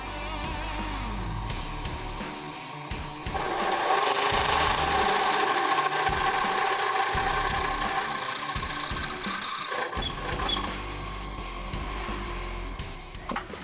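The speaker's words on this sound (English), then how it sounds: "I'm gonna go ahead and measure that pin and then drill that out so that the size matches" A drill grinds steadily through a hole in a metal spring perch on an old Ford F-150, a continuous harsh whine rising and easing slightly in pressure, close and loud throughout.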